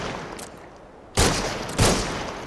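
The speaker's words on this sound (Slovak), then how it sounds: "A teraz môžem ďalej strieľať." Two sharp, loud gunshot blasts about half a second apart, ringing out in the VR shooter game Crossfire: Sierra Squad after a quieter stretch.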